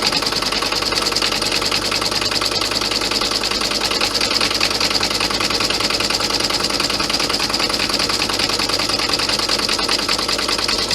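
An embroidery machine stitching an Easter bunny sucker design, its needle hammering in a fast, even, unbroken buzz at close range throughout, with no talking.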